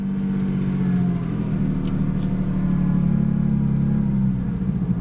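Porsche Cayman 987 fitted with an IPD plenum and GT3 throttle body, its engine running on a drive: a continuous low, droning rumble that swells slightly mid-clip, close and loud with no voices.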